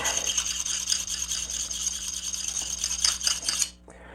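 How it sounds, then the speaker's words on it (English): A CPM S90V steel knife blade is drawn across the rough side of a sharpening stone in rapid back-and-forth rasping strokes, close and steady, stopping abruptly near the end. "use the rough side to remove material quickly so I can get past these little notches that I put in with the file"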